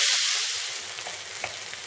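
Tantuni meat frying in a pan while being stirred, a close, steady hiss of sizzling with a few soft scraping touches over two seconds.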